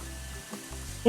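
Monsoon rain falls at a quarry-side house as a soft, steady, hiss-like patter, faint and even throughout the short stretch.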